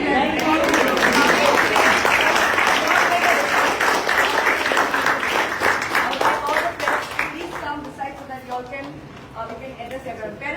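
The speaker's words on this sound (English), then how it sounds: "please clap for yourself" Parents gathered outside the Education Department in Porvorim applaud for themselves, a loud, dense burst of clapping that gradually thins and fades, with voices talking through it toward the end.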